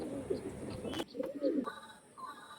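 Active pet pigeons for sale coo nearby in short, low, burbling phrases, repeated several times over faint background clatter, with no speech.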